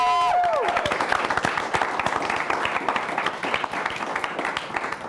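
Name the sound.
audience clapping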